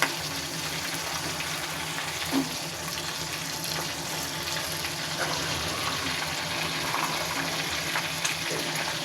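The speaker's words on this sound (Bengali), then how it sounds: "উল্টে পাল্টে ভেজে নেবেন।" Fish pieces frying in hot oil in a pan, a steady soft sizzle and crackle running throughout at a moderate distance with occasional faint clinks, no talking.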